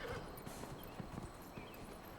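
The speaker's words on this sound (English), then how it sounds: "the horse is sprinting" Horse hooves clip-clop in a quick galloping rhythm in the video game Dragon Age Inquisition, heard fairly faintly over a steady background ambience.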